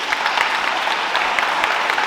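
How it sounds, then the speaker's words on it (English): Audience applause at a school event, steady dense clapping from a large crowd, sustained and fairly loud throughout with no voices over it. "will you please join me in giving a big round of applause for Canton Smith"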